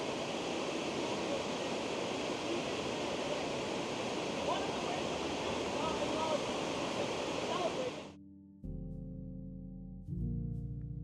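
Waterfall in a natural gorge on the Cornell University campus in Ithaca, New York, roars as a steady broadband rush for about eight seconds, then drops away abruptly into a few tonal notes.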